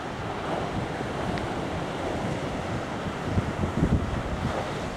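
Sea waves wash onto the shingle beach at Cley next the sea as the tide turns and goes out, a steady broad roar with soft surges and pebbly rattle, mixed with gusting wind on the microphone.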